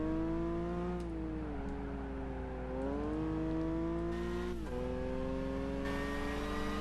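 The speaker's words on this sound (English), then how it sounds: "Not the game, just the way the car accelerates." A car engine in Gran Turismo 5 accelerates from a slow pace, its tone climbing and dipping through gear changes in a steady, continuous drone, loud and close with no one talking.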